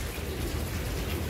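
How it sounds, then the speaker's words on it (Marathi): Heavy rain pours down outdoors in a dense, loud, continuous wash of noise, steady throughout with no voices. "पण पाऊस असा पडतो, तावाला ना पावसाला असं वाटतं वरती जाऊन नावा एक कान पडा, थांबतच नाही."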